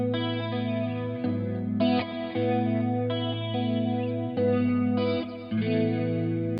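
Clean electric guitar run through a compact M-Vave pedalboard with chorus modulation, sustained chords strummed in a steady rhythm with shimmering, wavering tone, close and loud with no talking.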